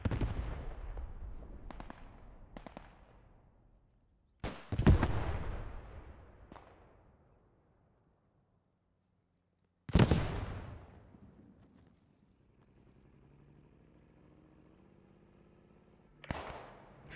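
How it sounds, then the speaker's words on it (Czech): Armored tank in the video game Post Scriptum, on the Bluecoat map: several sharp, booming blasts with ringing decay and quiet gaps between them, followed by a low, droning engine rumble that grows toward the end. "Slyším tank."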